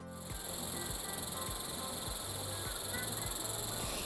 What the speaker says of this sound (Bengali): এটা কিন্তু ঝিঝির আওয়াজ